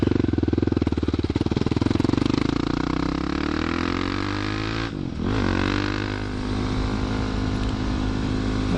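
A dirt bike engine revving close by, a loud buzzing drone that rises in pitch, dips briefly midway, then climbs again as it pulls away.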